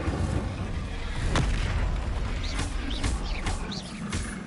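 Incendio fire spell cast in a Hogwarts video game, repeated booming bursts and whooshing crackles over continuous low rumbling battle noise, several sharp hits in quick succession.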